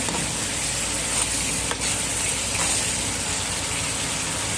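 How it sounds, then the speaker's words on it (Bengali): Masala spice paste sizzles steadily as it fries in a pan with half a cup of water added, a continuous close hiss with faint stirring scrapes and no talk. "দিয়ে এবারে 1/2 কাপ পরিমাণ জল দিয়ে মশলাটাকে আমি ভালো করে কষিয়ে নেব"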